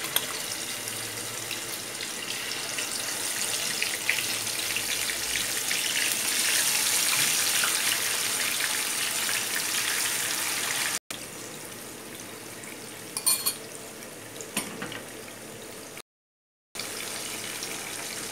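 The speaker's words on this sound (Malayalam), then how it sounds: "ചൂടായ എണ്ണയിലോട്ട് മാരിനേറ്റ് ചെയ്ത് വെച്ച ചിക്കൻ പീസസ് ഇട്ട് കൊടുക്കാം." Marinated chicken pieces fry in hot oil for a chicken roast, a loud, dense, steady hiss and sizzle close to the pan, with a couple of clicks and brief dropouts and no talking.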